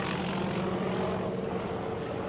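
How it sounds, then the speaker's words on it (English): Propeller airplanes fly overhead near a runway, heard from an RV campsite as a steady, broad engine drone that holds at moderate loudness throughout, with no speech. "Hey, there's airplanes flying over."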